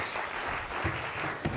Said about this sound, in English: can we just give them all a round of applause?